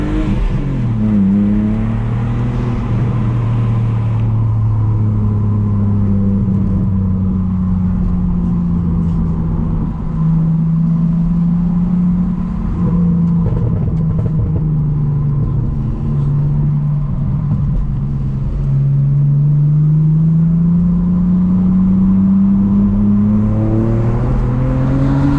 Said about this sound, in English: I'll leave the windows open for you guys just so you can hear the sound of that exhaust a little bit better